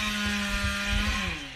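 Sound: chainsaw

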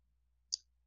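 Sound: mouse click on continue in Cricut software

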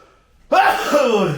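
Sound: sneeze

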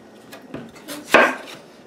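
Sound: knife cutting washed tomatoes into pieces

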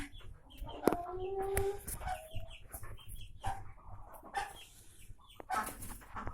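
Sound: hen clucking

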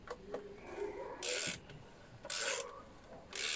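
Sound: tightening rocker cover bolts on a 2002 Vauxhall Zafira

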